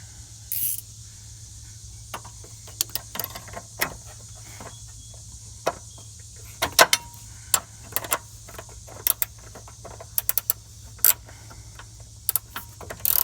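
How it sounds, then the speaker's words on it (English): A ratchet wrench turns a bolt while replacing an upper control arm on a 1997-2001 Jeep Cherokee XJ, giving sharp, sparse clicks and short bursts of ratcheting spread irregularly over a quiet background. "we got our ratchet wrench right here"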